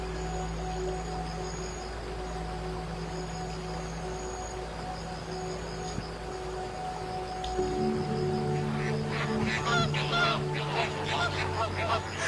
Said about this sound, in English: The greater flamingo, the largest of its family